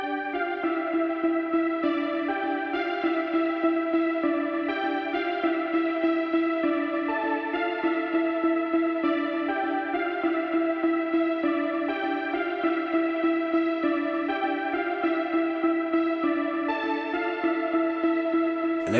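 A melody line layered over a mellow, chill piano sample in a Mo Stack–style hip-hop type beat, steady and continuous with echo and chorus-like effects, evenly loud throughout with no voices.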